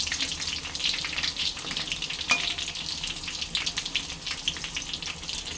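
Horse gram pakodas deep-frying in hot oil, a steady bright sizzle and crackle filling the whole stretch, with a faint clink partway through and no talk.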